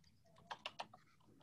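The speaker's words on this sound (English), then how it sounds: "I can hear Craig typing" A few faint keystrokes on a computer keyboard, three or four quick clicks in a short burst, quiet and distant.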